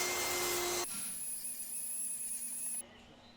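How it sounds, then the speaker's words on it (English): A power saw on a track cuts an indentation into a scrap wood frame, a high whining motor that shifts to a steadier pitch partway through and then winds down abruptly near the end. "I'm taking what I cut and using the track saw to make an indentation here for the frame."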